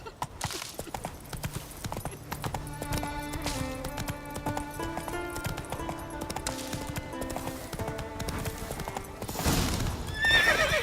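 A horse in The Witcher video game gallops with steady clip-clop hoofbeats and neighs loudly near the end, over game music.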